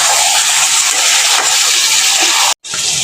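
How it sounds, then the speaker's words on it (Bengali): Chicken frying (kasha) in a pan gives off a loud, steady broadband sizzle that runs almost without a break, with one brief drop to near silence before the hiss resumes. "এখন খুব সুন্দরভাবে চিকেনটা কষে যাচ্ছে।"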